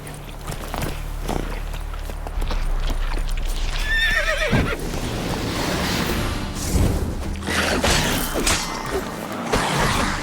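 In The Witcher 3, a horse whinnies with a rising, shaky call partway through. Clip-clop hoofbeats run around it, and a washing, surf-like ambience fills the background.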